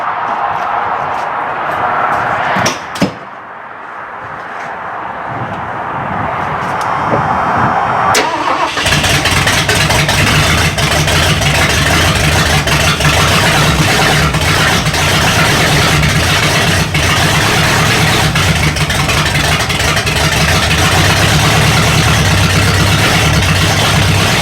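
A 1978 Mercury Marquis pulled from a junkyard, its engine cranking for the first time in 30 years: a quiet stretch and a click, then the starter grinding before the engine catches and settles into a loud, steady, rumbling idle up close.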